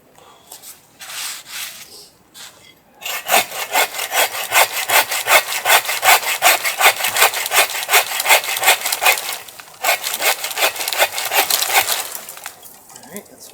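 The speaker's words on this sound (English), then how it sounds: "I need my saw for this" A hand saw cuts through wood outdoors in the woods, starting with a few tentative strokes, then a long run of steady, loud, rhythmic rasping back-and-forth strokes close by, with a brief pause before the sawing resumes.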